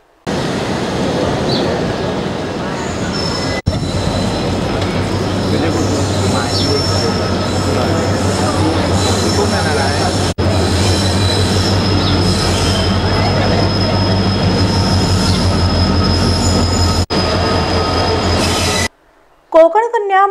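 A Konkan Railway passenger train passes close by, a steady loud rolling rumble with a sustained high wheel squeal and rhythmic rail clatter lasting almost the whole time before cutting off abruptly near the end.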